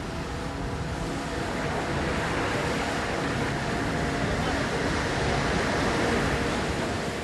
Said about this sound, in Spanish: El fuerte oleaje dificulta la navegación